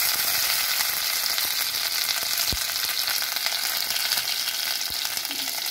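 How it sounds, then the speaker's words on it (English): Cumin seeds and pounded ginger spluttering in about a tablespoon of hot oil: a loud, steady, close sizzle dotted with sharp pops and crackles throughout, no speech. "So first let's add the cumin seeds. Let them splutter."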